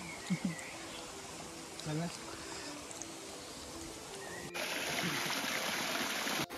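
Steady running water of a mountain stream on the Rangna fort trek flows throughout, with a brighter, louder rush in the last couple of seconds and faint voices in the background.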